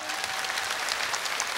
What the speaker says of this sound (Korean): 다음 분에게 박수 주시기 바랍니다